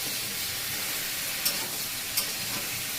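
Fish curry with potatoes and large cauliflower pieces sautéing on a high flame, a loud, steady hiss and sizzle with a couple of sharp pops and stirring scrapes, no talking.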